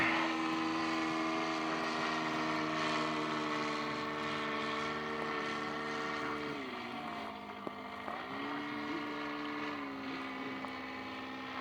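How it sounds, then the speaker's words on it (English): Continuous droning hum of a Waco propeller airplane engine with strong steady tones, pitch dipping slightly midway, heard from a distance. "that engine sounds so cool."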